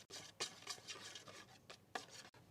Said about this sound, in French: Lydia va mélanger tranquillement